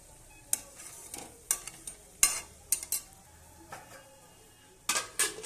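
Food sautéing in a covered pan gives a low sizzle, broken by sharp irregular clinks and scrapes of a utensil against the metal pan and lid, close and fairly quiet.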